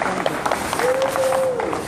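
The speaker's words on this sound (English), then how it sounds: "So give Ahmed a round of applause, because it takes a lot of courage to stand up against the dictatorship." A crowd at a protest rally for Egypt's political prisoners bursts into brief applause, a dense patter of clapping that fills the short moment.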